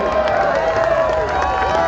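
Festival crowd at Electric Forest 2023 clapping and cheering for a guest named Ryan, a dense, steady wash of applause and shouts heard close and loud, with voices mixed into the noise.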